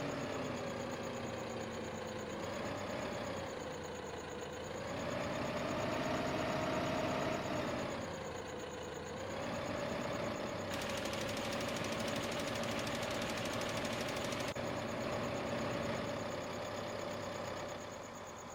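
A tractor engine in the farming game Farming Simulator 15 idles with a steady, knocking drone whose pitch rises and falls slightly, alone and continuous throughout.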